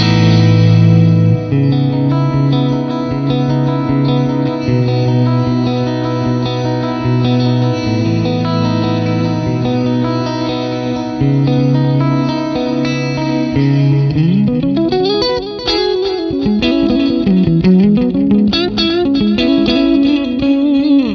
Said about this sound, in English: I think this gives you a great idea of just how lovely this delay sounds.